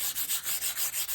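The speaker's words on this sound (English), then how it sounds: "The sanding on dark colors does lighten it up a little bit" Sandpaper rubbing back and forth along the grain of dark-painted wood, a steady rhythm of about eight close, scratchy strokes with no voices.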